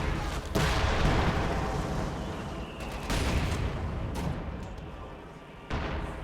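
Time-on-target artillery shells landing in the Company of Heroes 2 video game, a steady rumble of dense explosions with sharp bursts near the start, around three seconds and again near the end, loud throughout.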